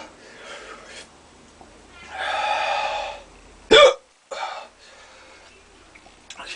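Someone has a fit of intense hiccups after eating a giant 7 Pot Brown Pod chili pepper. Breathy gasps come first, then one sharp, loud, close hiccup, followed by quieter breathing.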